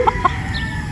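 Possum gamefowl rooster at a Batangas game farm gives a couple of short, close clucks right at the start, followed by a steady low background hum.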